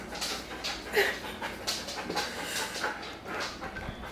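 Dogs react to trick-or-treaters on Halloween with panting, whimpers and short yips, fairly close but moderate in level, over a low background rumble.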